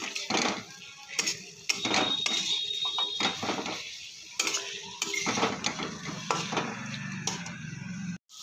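Fried duck eggs stirred into spice masala in a pan, a spatula scraping and clanking against the metal in repeated close strokes, with a soft sizzle beneath and short pauses between.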